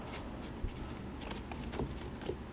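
Small metal keys from a Hitman 2 collector's edition give a few faint, brief jingles and clinks close by against a quiet room background.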